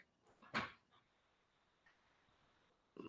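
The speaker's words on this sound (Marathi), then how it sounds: "माझा छोटासा कुत्रा मला खूप त्रास देतोय" A small, sick dog lets out one short, sharp whimper early on, followed by faint shuffling and a quiet bump near the end in an otherwise hushed room.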